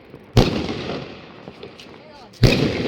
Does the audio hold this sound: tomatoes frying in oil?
no